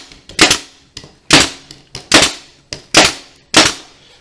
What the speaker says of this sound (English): So now we're just gonna use a nail gun.